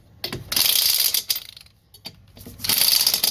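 A ratchet wrench snugs up wheel lug nuts on the axle of a 2018 Hideout travel trailer, with two loud, close bursts of rapid clicking separated by a brief pause, and no talking.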